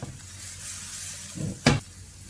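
Onion frying with garlic in a pan gives a soft, steady sizzle, broken near the end by two short bursts of stirring scrapes, the second louder and sharper.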